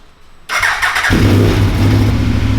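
After a quiet start, an Aprilia RSV4 APRC motorcycle engine cranks and fires up, settling into a loud, steady rumbling idle close by.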